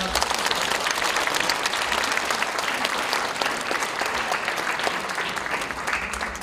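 Sustained, full applause from a congregation at a pastors' ordination service, dense and steady throughout, easing slightly toward the end.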